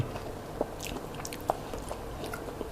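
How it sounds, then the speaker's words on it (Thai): Soft, close chewing of cassava cake with a banana filling, quiet and moist, with a few sharper clicks of the mouth scattered across a couple of seconds. "เคี้ยวก็จะหนึบหนึบ อร่อยมาก"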